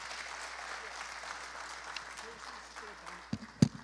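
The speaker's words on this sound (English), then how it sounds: "We need another big round of applause to the wonderful presentation" An audience at an innovation forum applauds after a presentation, a dense patter of clapping held fairly low under a speaking voice, ending with a couple of louder knocks near the microphone.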